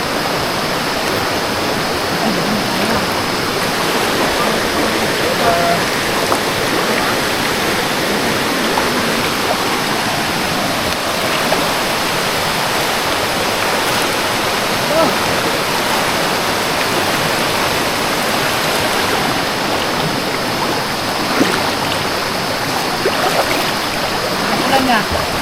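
Heavy rain pounding steadily outdoors during a sudden storm with strong wind, a dense, unbroken roar that stays loud throughout.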